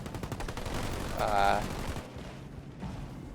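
Marines open fire in a Halo Wars 2 battle, a dense crackle of rifle fire that swells into a louder burst before thinning out, with game effects and a voice mixed in beneath.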